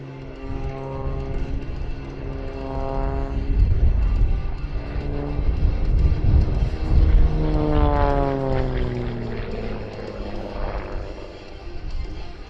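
An XA41 aerobatic aircraft's engine during a spinning display manoeuvre at a Shuttleworth air show, a loud propeller drone whose pitch rises and falls in repeated sweeps as the plane turns, heard from the ground with no talking.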